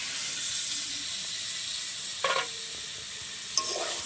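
Boiled elephant foot yam and fried potatoes stirred into spice paste for a vegetarian curry, with a steady soft sizzle in the pan and a couple of brief scraping stirs.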